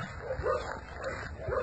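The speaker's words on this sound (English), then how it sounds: "Someone's tied this mother dog." A mother dog tied up at an animal shelter whimpers and yips in soft, repeated bursts, fairly close and steady throughout.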